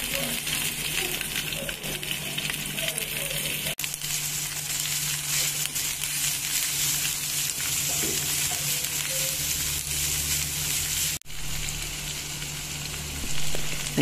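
Chopped banana heart goes into a hot pan with browned chili and sizzles steadily and closely, with occasional stirring clinks and scrapes throughout.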